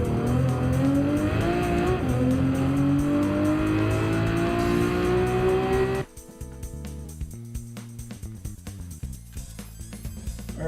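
A Lamborghini Diablo in Gran Turismo 7 screams under hard acceleration, its engine pitch climbing steadily for about six seconds before abruptly cutting away to quieter, choppy clicking sounds.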